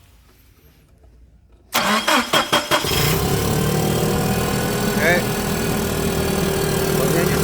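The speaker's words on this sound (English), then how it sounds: "well, the engine starts up fine." Komatsu forklift engine, tested for lost power under load: after near silence it cranks in several quick, loud churning bursts, then catches and settles into a steady close running drone, and a voice speaks briefly.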